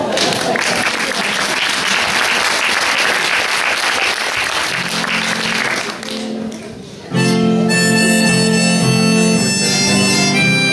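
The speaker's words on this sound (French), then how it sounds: "On applaudit le Tchèque." Audience applauding a Czech performer at a French show, a steady crowd clapping for several seconds before music with guitar and voices takes over loudly.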